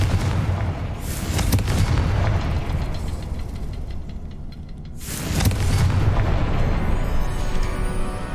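In the Hogwarts Legacy video game, the Confringo spell sets off two booming explosions about four seconds apart. Each has a sharp loud blast followed by a rumbling decay.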